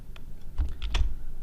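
A few separate computer keyboard keys are pressed during an After Effects editing session, giving about three or four close, crisp clicks with short gaps between them, alone and without talk.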